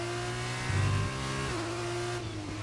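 A video game F2 race car engine at the Australia track hums at a steady pitch, then shifts gear and drops in tone, fairly quiet and with no voices.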